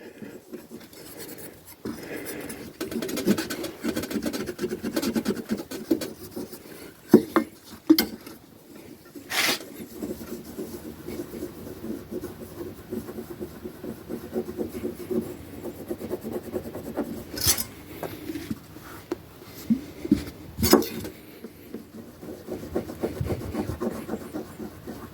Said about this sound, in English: Get a generous amount on there and just start doing this. It literally scrubs the rust off.